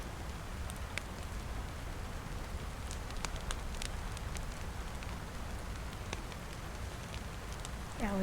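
Rain falls in DayZ as a steady, soft hiss, faint and continuous, with a few scattered clicks and a voice just starting at the very end.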